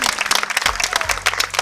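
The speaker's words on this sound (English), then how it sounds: "Julia's parents, give them a round of applause." Wedding guests at a reception applaud the bride's parents, a short burst of close, lively clapping with some low thumps and a brief voice underneath.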